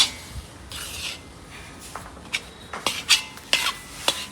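A spoon scrapes and clinks against a pot while stirring a khoa and rice flour mixture for sweets, in short, irregular strokes that stand alone and stay fairly quiet.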